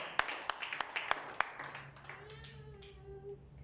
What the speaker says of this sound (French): Clap your hands for the glory of the Lord.